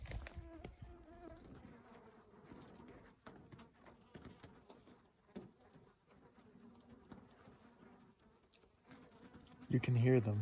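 Biting insects swarming around hikers on a backpacking trip in Yellowstone National Park, a persistent buzzing drone with individual insects whining close past, faint bird calls and a brief louder rustle near the end.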